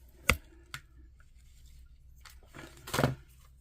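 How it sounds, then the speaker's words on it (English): Scissors cut through decorative ribbon in a few crisp, close snips: two quick single cuts, then a longer cluster of snipping near the end, with quiet between. "I'm going to cut this."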